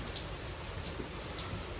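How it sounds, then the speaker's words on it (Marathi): Heavy rain from the first downpour of the season in a village, a dense continuous hiss of drops pattering on surfaces, steady and close with no voices. "आणि पाऊस खूप जोरात येत आहे"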